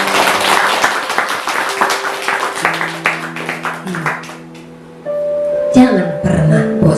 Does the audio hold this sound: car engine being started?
no